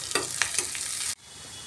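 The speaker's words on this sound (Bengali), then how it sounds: "পেঁয়াজটাকে একটু ভাজা ভাজা করে নিচ্ছি।" Onions browning in hot oil in a pan give off a dense, close sizzle with a few stirring scrapes, then the sound cuts off abruptly near the end.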